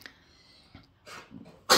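A single sharp sneeze bursts out near the end, loud and close, after a few quieter breathy sounds.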